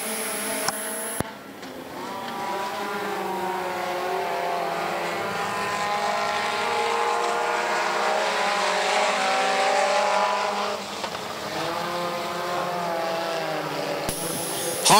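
Race cars roar around the dirt oval at I-75 Raceway, a loud sustained engine drone that swells and fades as the pack passes, with no voices over it.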